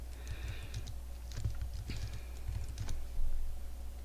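Data being typed into StatCrunch on a computer keyboard, a steady run of soft, close keystrokes in small bursts over a low hum.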